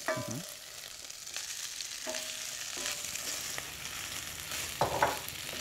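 Lamb pieces frying in a pan for a Spanish dish, with a steady close sizzle and occasional scraping stirs against the pan, plus a few brief clinks near the end.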